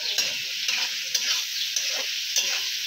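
Onions frying in a pan for a desi chicken dish, with a steady bright sizzle broken by soft regular scrapes of stirring, close up and with no talking.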